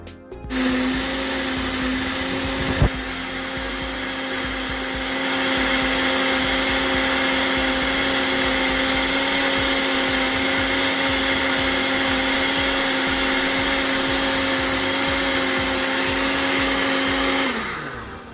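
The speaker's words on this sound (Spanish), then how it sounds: "vamos a poner en funcionamiento la licuadora" A kitchen blender runs steadily, whirring loud and constant as it purées pears, apple, bananas, milk and sesame into a smoothie, with a brief thump early on before the motor settles into a sustained whine that cuts off at the end.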